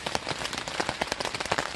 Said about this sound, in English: But yeah, the rain.